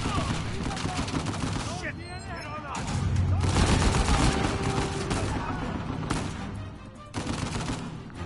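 Gunfire during a firefight in Uncharted 4: A Thief's End, loud bursts and scattered shots crackling continuously over music and effects, with people talking through the action.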